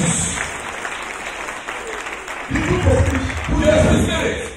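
A church congregation applauds to acclaim Jesus, clapping swelling from moderate to loud, with a voice speaking over the applause.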